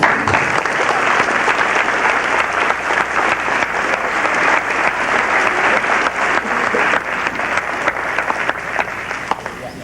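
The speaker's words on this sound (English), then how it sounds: "And a round of applause, please." A crowd at a high school awards ceremony applauds students continuously for about ten seconds, a full, even roar of many clapping hands with no break.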